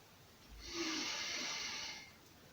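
A single audible breath drawn in during an exercise routine while the arms are raised, a soft, airy inhale that swells, holds for about a second and fades.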